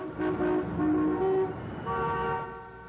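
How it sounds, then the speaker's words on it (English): Boat horns honk at sea in celebration of the Orioles World Series win, a few long tonal blasts overlapping and fading, moderately distant, with no talk. "They even honked on the high seas."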